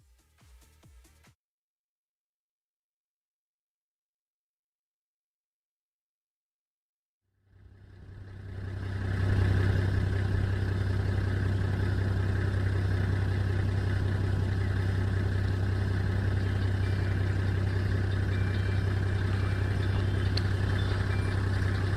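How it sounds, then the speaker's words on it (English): A rally car engine on the Malewa stage of the FIA ARC Equator Rally is briefly audible, then silence, then a steady loud engine drone builds and holds unbroken, close and alone, with no voices. "enjoy the sounds from the engine revs from Malewa"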